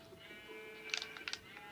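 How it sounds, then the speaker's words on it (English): A Minecraft sheep lets out a few short, faint bleats in quick succession over a quiet, steady in-game background tone. "I'm punching a sheep to death."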